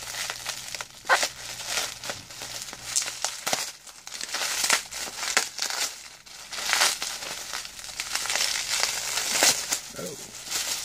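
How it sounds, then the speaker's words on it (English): Bubble wrap crinkles and crackles as a Kenner Darci doll is unwrapped, with broadband rustling bursts continuing steadily and a voice speaking intermittently over it. "she's in bubble wrap"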